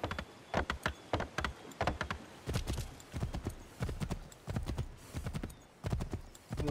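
Horse hooves clip-clop in a steady trotting rhythm in Assassin's Creed III, each footfall crisp and close, running continuously with no talk over it.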